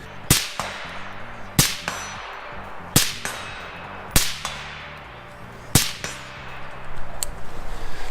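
Suppressed AR-15 rifle fitted with a Zulu 556 integral suppressed upper, firing about six single shots spaced a second or so apart, each a sharp, fairly loud crack with a short ringing tail, over faint background music.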